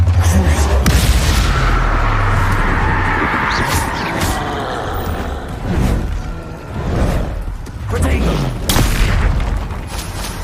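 Confringo and Expelliarmus spell blasts in the game Hogwarts Legacy: loud, repeated booming explosions and whooshes follow each other densely, close and heavy, with a voice speaking over them.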